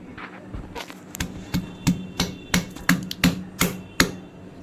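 Jackfruit seeds are crushed in a mortar and pestle for a Konkan-style vegetable dish, a steady series of about a dozen dull, evenly spaced pounding thuds heard close up over a low background hum.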